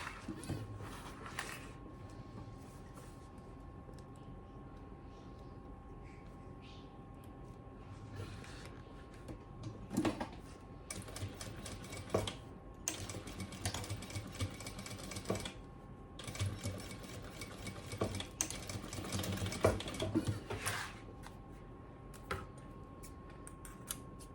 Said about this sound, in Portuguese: E vou fazer uma costura aqui, fazendo esse acabamento.